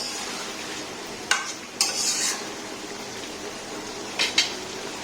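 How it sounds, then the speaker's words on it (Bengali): A spoon stirs eggs into a spiced muri mixture in a pan, giving soft scraping with a few sharp clinks against the metal over a faint steady background hiss, with no talk. "মশলার ভিতরে ছেড়ে দিলাম। সুন্দরভাবে নাড়াচাড়া করে"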